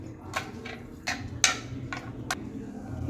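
A knife cuts green chillies for a home-cooked drumstick sambar, with about half a dozen sharp, separate taps on a cutting board in an uneven rhythm, each one close and crisp.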